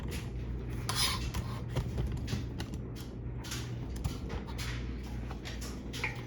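A screwdriver prying a cap off an old grease-filled part on a 1990 Bianchi Ocelot bicycle, heard as quiet, close creaking, rubbing and scraping with small metallic clicks over a low background hum.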